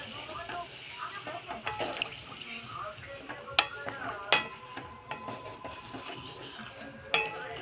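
Water poured into a pan of sautéed spices for a thin koi fish curry with cauliflower gives a soft sloshing, bubbling wash with occasional clinks, mixed with faint background voices.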